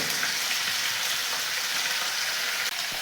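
A fish head frying in mustard oil crackles and sizzles close up, a dense, even hiss that holds steady the whole time.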